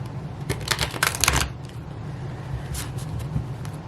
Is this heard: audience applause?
no